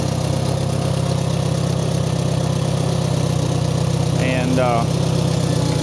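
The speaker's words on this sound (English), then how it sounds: "it's a good, real good running tractor" A 1973 IH Farmall 140 tractor engine idles steadily close by, a continuous low rumble with a brief voice at the end.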